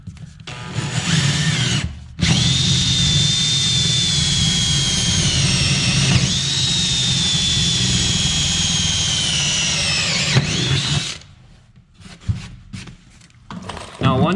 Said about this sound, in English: I'm using a 1/4 inch drill bit